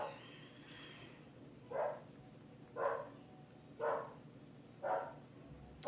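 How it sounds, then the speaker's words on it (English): A dog barks indoors, four separate moderately loud barks spaced about a second apart, with the first one faint and the rest clear against a quiet room with faint background hum. "It's one of my dogs."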